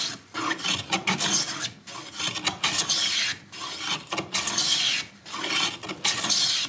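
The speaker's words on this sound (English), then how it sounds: "You'll hear the strokes elongate. It'll go ch-ch-ch-ch, and then it'll get longer." Repeated rasping strokes of a hand plane edge-jointing a wooden board, close and loud, each stroke a broad burst separated by short pauses, with the strokes growing longer toward the end.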